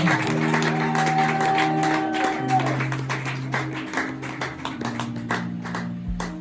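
A church congregation bursts into applause and cheering during a service, with dense clapping spread across the room over sustained organ-like music tones.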